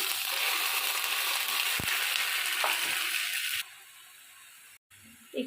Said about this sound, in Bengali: আদা বাটা এক চামচ পেঁয়াজ টমেটো পেস্টটাও দিয়ে দিলাম